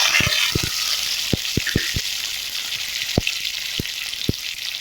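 Small shallots and curry leaves sautéing in hot oil for a green turkey berry curry: a steady close sizzle broken by a dozen sharp, scattered crackling pops.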